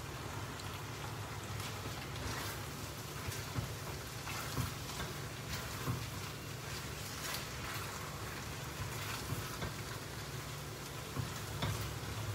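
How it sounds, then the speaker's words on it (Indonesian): Lumpia filling being stir-fried until dry in a pan, a steady dense sizzle with occasional stirring scrapes running continuously at moderate volume, with no talk. "Yang goreng betul-betul ya, goreng bagi dia kering kan."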